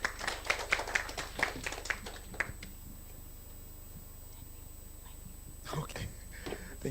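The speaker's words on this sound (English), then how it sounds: "Let's give him a round of applause" Brief scattered clapping from an audience at a mental health symposium, a few sharp claps in the first two seconds that fade into quiet, with faint murmurs and a throat clear near the end.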